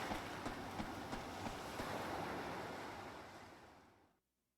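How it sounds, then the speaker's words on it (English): Steady broadband rumble and rushing of a monorail ride in the video game Yakuza 3, continuous and fairly loud with faint rhythmic clacks, fading out and cutting to silence near the end. "monorail trip to the golf course"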